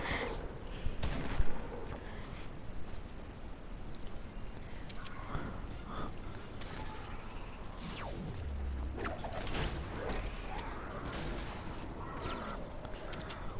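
Gunfire in the Fortnite Battle Royale video game, a steady barrage of crackling shots and mechanical clatter that stays busy and fairly loud throughout, with occasional sharper bursts.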